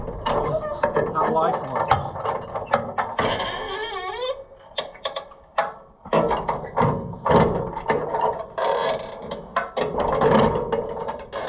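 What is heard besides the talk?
unoiled handyman jack being jacked up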